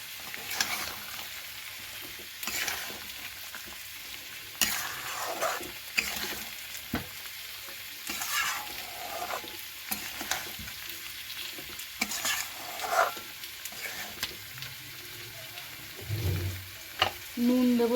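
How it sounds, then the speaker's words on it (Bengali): Potatoes sizzle steadily while being stirred and sautéed in a frying pan, a continuous close crackle broken by repeated scraping strokes of the spoon, with little talk. "আলু দিয়ে ভালো করে কষিয়ে নেব।"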